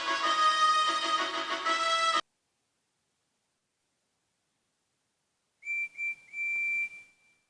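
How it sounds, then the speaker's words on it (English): A tank engine's train whistle sounds in a story: a rich, loud blast that cuts off sharply, then after a silent pause a thinner, higher whistle in a few short toots and one longer tone. "he heard a whistle"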